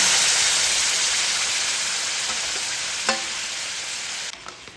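Raw mango and jaggery mixture poured into a dry pan without oil hisses in a broad, loud, steady rush that slowly fades, with a couple of light utensil taps near the end.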